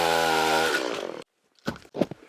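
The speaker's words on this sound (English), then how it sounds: "that saw doesn't like to run sideways. It's just bogging out" A chainsaw cutting sideways through wood at a snowy winter camp roars loudly and then bogs down, its engine pitch sagging before it cuts out. Two dull knocks follow after a brief silence.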